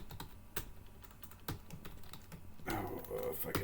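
Someone types on a computer keyboard in scattered clicks, then a denser, quicker flurry of keystrokes at the end, close and fairly quiet.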